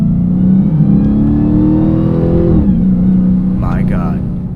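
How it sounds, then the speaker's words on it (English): Supercharged Dodge SRT Hellcat Challenger engine, loud and close, with a steady droning pitch rising as it revs, then a sharp drop and a lower held tone. "the supercharger whine."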